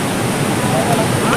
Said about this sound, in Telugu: ఇవి పొల్లూరు జలపాతాలు.